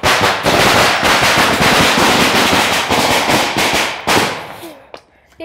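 Diwali firecrackers go off during a family celebration, bursting loudly in a dense, continuous volley of rapid cracks and bangs that thins out near the end.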